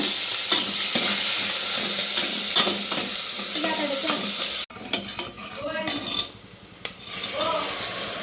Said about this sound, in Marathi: लगेच लसूण जळाच्या आधी कांदा टाकून घेऊया.